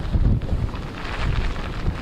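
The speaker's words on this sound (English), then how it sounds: "This one has wind and a lot of rain pelting us" Strong storm gusts batter the microphone with a heavy, continuous roar, while driving rain pelts down throughout, loud and close.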